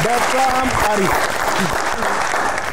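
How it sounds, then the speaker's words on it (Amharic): An audience bursts into steady applause during a game-show style quiz, sustained clapping at close range with a voice speaking briefly over it. "አጨብጭቡላችሁ"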